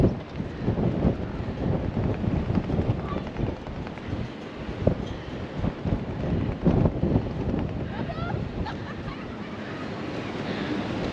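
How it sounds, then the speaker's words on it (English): Gusty wind buffets the microphone with low rumbling rushes, while faint voices and surf-like noise sit underneath. "but it is very windy."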